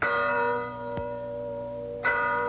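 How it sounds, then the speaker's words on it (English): Lexington Meeting House church bell rings the call to arms, with two clear strikes about a second apart, each leaving a long, humming resonance that rings on between them. "That's the Lexington Meeting House bell. It's the call to arms."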